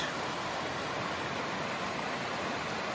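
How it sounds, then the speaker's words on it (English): Steady rushing water, a continuous even hiss of a small waterfall and stream running alongside an Appalachian Trail path, close by, with no other sounds. "Small waterfall, nice little stream running right alongside the trail."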